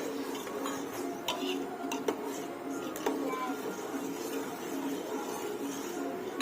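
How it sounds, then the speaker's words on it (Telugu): A ladle clinks against a plate while sugar syrup for boondi laddu is scooped out, giving a few sharp metallic taps over a low steady kitchen background. "కొంచెం గంటెతో ప్లేట్లో వేసుకుంటూ చెక్ చేస్తాయి"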